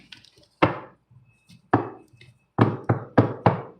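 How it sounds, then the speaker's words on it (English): Sharp knife chops strike a cutting board during cooking, spaced irregularly at first and then coming in a quicker run of four near the end, crisp and close against quiet. "Oh, a lot of cooking, chopping."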